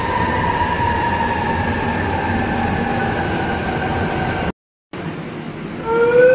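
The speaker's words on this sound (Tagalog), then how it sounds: "Masakay tayo sa MRT pala, hindi pala bus." An MRT rail train in a station: a loud, steady rumble of a railcar with sustained tonal whine and brief wheel squeal, interrupted by a short gap, then the passing train's noise swelling again near the end.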